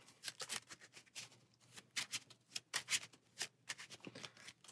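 Cards from a Marvel Champions encounter deck are riffle-shuffled repeatedly, a steady run of crisp fluttering bursts, quiet and close with no voices.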